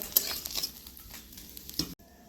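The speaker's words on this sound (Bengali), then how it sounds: "ছোট মাছগুলোকে ভেজে নিচ্ছি" Soft hiss of small fish frying in hot oil with a few light stirring taps, fairly quiet, ending abruptly.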